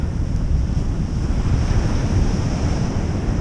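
Waves breaking and wind blowing on a cold beach, a constant broad roar of surf with heavy low wind rumble on the microphone, steady and close throughout, with no voices.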